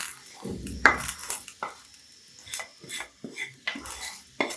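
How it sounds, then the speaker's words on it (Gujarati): A spoon scrapes and clinks around a pot in irregular, repeated strokes as tempering is mixed into rice, close and fairly loud, with no one talking. "ભાતને આપણે મિક્સ કરી દઈશું"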